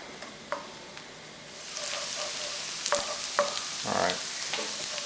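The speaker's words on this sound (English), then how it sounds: "So all we want to do now is brown the onions" Onions browning in a frying pan for homemade bitterballen give a soft, steady sizzle, with a few sharp clicks and scrapes of stirring scattered throughout, fairly quiet and close with no talking.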